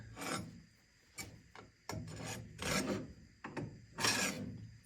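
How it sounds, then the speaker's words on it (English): A woodcutter's blade rasps over the engine block of a 1924 Ford Model T, scraping off an old gasket in several close, quiet strokes with short pauses between them. "I've been using this woodcutter's blade, whatever you call it. Just kind of running it along, scraping off"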